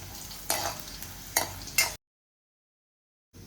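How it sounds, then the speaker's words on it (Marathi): Cashews frying in a pan while being stirred: a soft continuous sizzle with three distinct scraping stirs, close, then a short silence before a sound resumes at the end. "काजू आपल्याला गुलाबीसर रंगावर परतून घ्यायचा"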